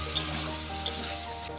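Spices sizzle faintly in a pan as a splash of water from a rinsed spice bowl hits them while potatoes cook for a Pabda fish curry, a soft steady hiss with a low hum beneath.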